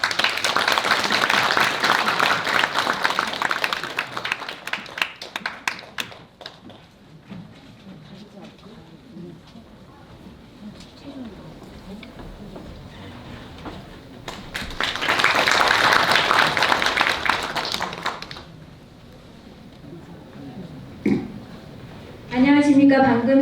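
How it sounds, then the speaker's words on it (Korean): Audience applause welcoming a speaker at a public forum on health promotion in Yanggu County, Gangwon Province. One burst of clapping opens, then a stretch of speech, then a second shorter burst. "박수로 환영하겠습니다"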